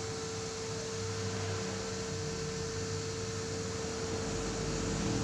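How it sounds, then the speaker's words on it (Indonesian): A high-speed electric fan spinning fast close by, a constant whirring drone with a steady tonal hum and no talk over it. "kipasnya masih berputar kencang ini karena posisi melepas ya, masih belum menyambung kembali ini"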